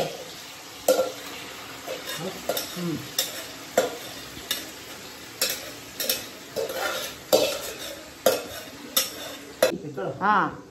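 Chicken is stirred in oil in a pan on a gas stove. A spoon scrapes the metal in steady, regular strokes about every second over a continuous close sizzle, with a voice now and then.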